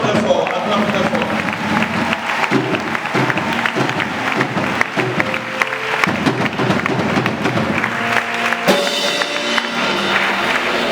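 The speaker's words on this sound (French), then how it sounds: "Acclame très fort, acclame très fort." A church congregation at a Sunday service applauds and cheers loudly and steadily throughout, a dense roar of clapping and voices with a brief dip before it swells again.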